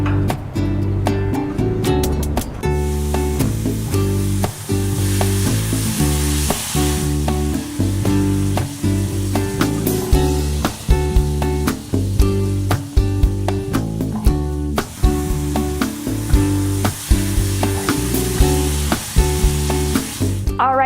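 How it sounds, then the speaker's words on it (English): Vegetables coated in olive oil, salt and pepper sizzling on a grill, a steady close frying hiss with some clatter, running beneath loud background music. "I just put my vegetables on the grill, so while those are grilling"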